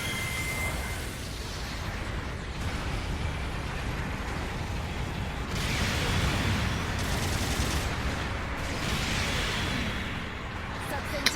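Magnum fire in the mecha game Gundam Battle Operation 2 with a Unicorn suit, a dense, continuous roar of shots and blasts running throughout with someone talking over it.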